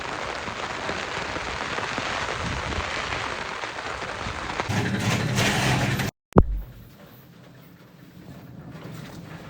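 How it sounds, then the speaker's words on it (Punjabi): Steady rain pours down outdoors as a dense, even hiss, then a sharp knock and sudden drop to a quieter indoor patter as the sound moves inside. "ਮੀਂਹ ਪਈ ਜਾਂਦਾ"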